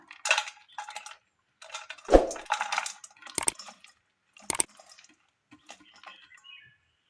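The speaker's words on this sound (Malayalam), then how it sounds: "ഒരു പാത്രത്തിലേക്ക് അരിഞ്ഞു വെച്ചിരിക്കുന്ന ക്യാബേജ് ഇട്ട് കൊടുക്കാം" Chopped cabbage tipped into a bowl gives scattered light clatters and soft thumps, with one sharper knock against the dish amid quiet kitchen handling.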